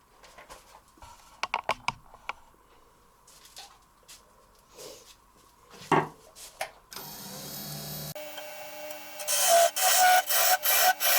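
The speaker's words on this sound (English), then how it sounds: "we can start sanding this a little bit down" Scattered wooden taps and scrapes on a walnut and resin ring box give way to steady rasping sanding strokes, rhythmic and close, growing louder toward the end.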